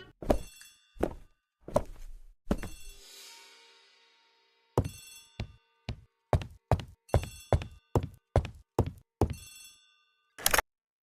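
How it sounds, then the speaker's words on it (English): An old bell telephone rings in a hallway in the Agatha Christie ABC Murders video game, sounding as a series of sharp metallic bursts, some sparse and some in quick succession, with a longer ringing decay early on. "The telephone in the hall is ringing."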